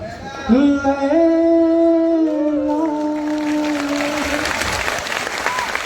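A held, melodic voice opens the moment at a kavi sammelan poetry recital in Panipat, then the audience's clapping rises and carries on as a dense, continuous patter to the end.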